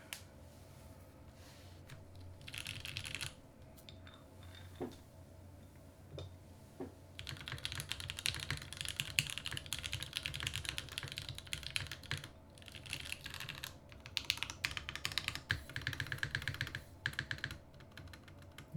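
Typing on a rebuilt classic TKL mechanical keyboard fitted with a different spacebar, dense runs of close clacky keystrokes with brief pauses and a slight rattle, steady and moderately quiet, no voices.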